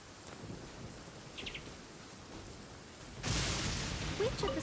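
Heavy rain falls as a steady dense hiss, with a sudden loud rumbling thunder burst about two thirds of the way through and faint bird chirps in the background.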